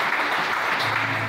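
Congregation at a French-language church service clapping and cheering together, a dense, sustained wash of applause filling the room without a break.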